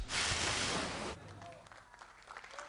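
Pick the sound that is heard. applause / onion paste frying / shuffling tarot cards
applause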